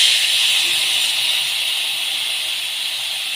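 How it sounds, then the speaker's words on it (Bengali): Tamarind water poured into hot oil sets off a loud, steady hiss that holds evenly and fades slightly toward the end, with no voices over it. "এই পাকা তেঁতুলের জলটা দিয়ে দিচ্ছি।"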